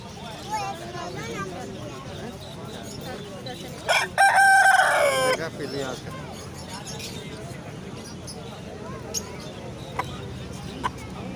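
A rooster crows once, loud and drawn out, amid outdoor background noise at a cattle show, with a voice speaking nearby.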